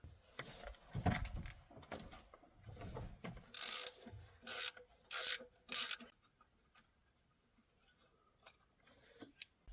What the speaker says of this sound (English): now to remove your idler pulley, you're going to remove this 15mm bolt.